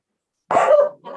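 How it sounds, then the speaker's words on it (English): A single dog gives a sharp bark followed by a brief trailing yip, close to the microphone and otherwise quiet. "I apologize for the dogs"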